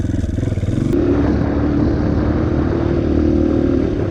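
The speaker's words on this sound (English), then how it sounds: "then you can hear me shift every 10 miles an hour I slow down or so" Dirt bike engine downshifting while slowing, a loud, close, continuous engine drone with one abrupt change as a gear drops and a steady lower throbbing afterward, no talking.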